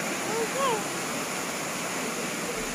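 Steady rushing water from monkeys splashing and swimming in a pool near Tungareshwar Temple outside Mumbai, a continuous broadband wash heard at moderate distance, with faint bird chirps early on and no talking.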